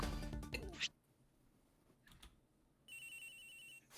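An electronic phone ringtone from the Ace Attorney Investigations video game chimes in a steady, tonal burst of just under a second, following brief voices and a quiet pause.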